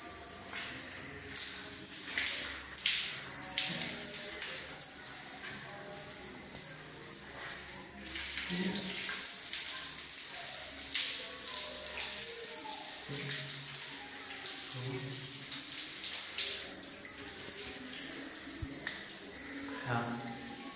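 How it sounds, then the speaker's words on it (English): Water runs from a handheld telephone shower (bidet sprayer) in a bathroom, a continuous hissing spray with small shifts in flow as it moves, with people talking intermittently over it. "this is a telephone shower now"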